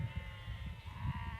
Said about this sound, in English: Some very noisy sheep in this field.